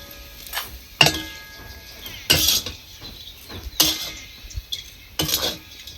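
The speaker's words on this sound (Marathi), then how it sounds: "आता ही मी डिशमध्ये काढून घेते" Raw mango and peanut chutney scraped out of a pan into a dish, with several sharp metallic clinks and scrapes of a spoon on cookware, close and spaced apart, and no talking.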